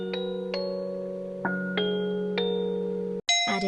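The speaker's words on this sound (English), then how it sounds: "Then I added these strum bell chords." Bell-like chords are struck in turn, each ringing and sustaining, about six strums in all, followed by a brighter, higher chime at the end.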